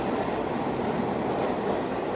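A New York subway train rumbles along, a steady, close rail roar with a faint rattle and no voices.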